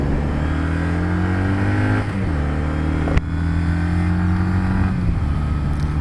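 A 2019 Kawasaki W800 Cafe motorcycle accelerates hard onto a freeway, its engine droning loud and close, rising in pitch through each gear, then dropping briefly at the shifts, with wind rush underneath.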